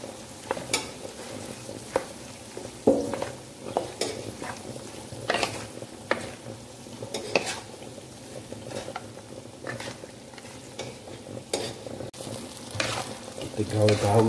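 Fruit acar pickle being stirred and tossed through its sauce in a pan, with repeated scraping stirs and a soft sizzle running underneath, fairly close and steady.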